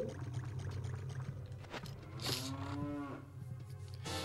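A cow in The Legend of Zelda: Ocarina of Time gives a single drawn-out moo after being struck, heard clearly over a low steady background hum.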